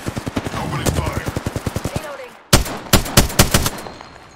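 Rapid automatic gunfire from an Apex Legends firefight, a steady burst of evenly spaced shots that cuts off briefly, then resumes as slower, heavier single shots, loud and close.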